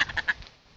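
Three quick, nasal quacks from a female duck close by, evenly spaced, fading into quiet afterward.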